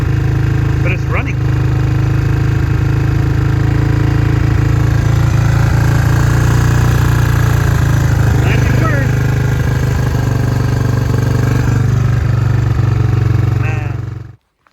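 A kickstarted engine on a small farm machine runs loud and continuous with a rough, uneven low rumble, close by, before cutting out at the end.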